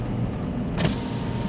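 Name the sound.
car power windows being opened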